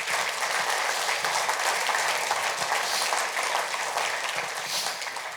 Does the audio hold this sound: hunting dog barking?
no